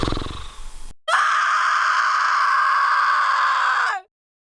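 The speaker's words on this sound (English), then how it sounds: "I heard screaming" A cartoon character lets out a loud, sustained high-pitched scream lasting about three seconds, steady and shrill before cutting off abruptly; a short burst of noisy sound comes just before it.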